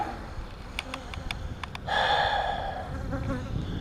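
Honey bees buzz at a hive during a spring inspection, a sustained close droning hum that swells midway, after a handful of sharp clicks and taps at the start.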